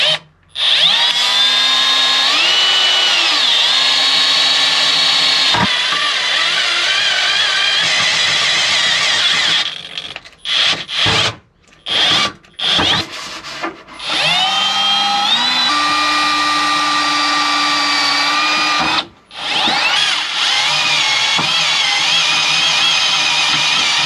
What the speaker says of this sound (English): drill a small hole and make sure before we go drilling big enough for the threaded rod